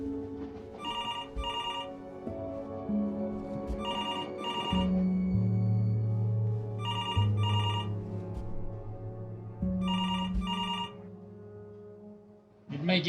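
A telephone rings in the video game Before Your Eyes, several bursts of bright electronic trilling in a repeating pattern over low music and droning tones, moderately loud, no talk.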